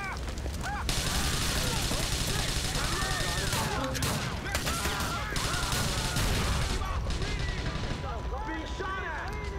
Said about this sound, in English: explosions actually remove your hearing